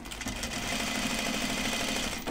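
A sewing machine stitches through a thick stack of stretch denim for a pair of pull-on jeans. It makes a continuous, fast, even mechanical hum of stitching at steady volume from start to finish.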